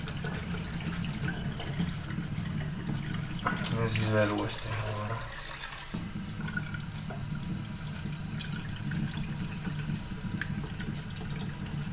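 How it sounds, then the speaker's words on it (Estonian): Water poured off and rinsed from buckwheat groats in a kitchen, a steady running, splashing wash heard fairly close, with a brief spoken phrase partway through. "Vesi lihtsalt välja kallata."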